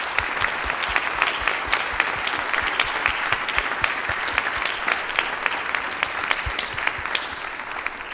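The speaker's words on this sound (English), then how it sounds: "can we give, please, everybody a round of applause for such hard work all year to make this possible" A large audience applauds warmly after a St. Charles County youth orchestra concert, with dense, steady clapping that fills the hall evenly from start to finish.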